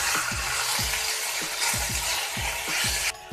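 Beef stew meat browns in hot oil in a pan, giving a constant close sizzle. Regular low thuds and scrapes recur about twice a second as the pieces are moved.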